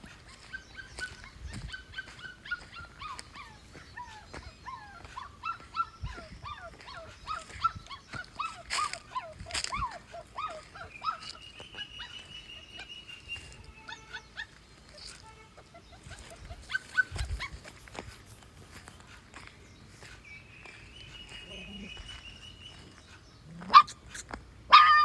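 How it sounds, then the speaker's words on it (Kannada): A small puppy, fallen into a black roadside drain channel, cries with repeated high whimpers and yelps in rapid trailing runs, fairly faint and distant, with a few sharper cries and thumps near the end. "ನಾಯಿಮರಿ ಕೂಗ್ತಾ ಇರೋದು."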